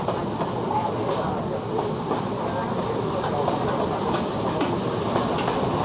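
A train runs along a railway line near Hangzhou with a steady, dense rumble, faint clicking and a hissing wash, continuous and close throughout.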